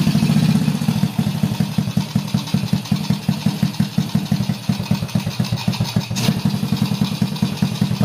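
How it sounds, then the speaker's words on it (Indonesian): Motorcycle engine idling steadily and loudly up close, a smoky-exhausted bike with a fast even putter throughout and one brief sharper blip near the end. "Setelah itu kita dengarkan pada bagian suara mesinnya."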